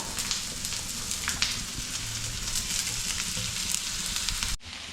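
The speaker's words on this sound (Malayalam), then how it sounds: "അതൊന്ന് ചൂടാവുമ്പോൾ നമുക്ക് അരിഞ്ഞു വെച്ചിരിക്കുന്ന ഒരു രണ്ട് മൂന്ന് ചെറിയ സവാള ഒരുപാട് വലുതല്ല മൂന്നെണ്ണം എടുത്തിട്ടുണ്ട് അതൊന്നിട്ട് കൊടുക്കാം" Sliced small onions dropped into hot coconut oil, giving a steady loud sizzle and crackle that runs nearly the whole time, then cuts off abruptly near the end.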